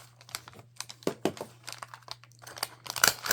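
A paper gift bag made from upcycled Christmas cards is folded over, giving close crinkles and crisp paper crackles in irregular bursts over a faint steady hum.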